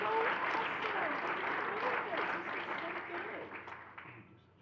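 A school-district audience applauds an honor roll recognition. The dense crowd clapping is steady at first, then tapers off and fades near the end.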